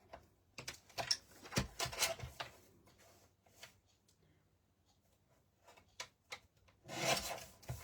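Paper is cut for a flower craft with quiet, intermittent scraping and rasping strokes. The strokes come in short irregular bursts, close but soft, with a denser burst near the end.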